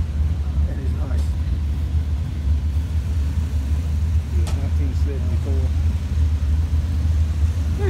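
The engine and exhaust pipes of an unrestored 1974 Buick Century rumble in a deep, steady idle that stays constant throughout, heard from nearby.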